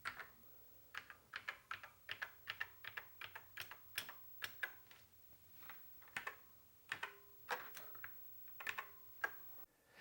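Keys on a broken Commodore SX-64 keyboard are pressed one after another, producing sharp, quiet plastic clicks in an irregular rhythm, close and alone.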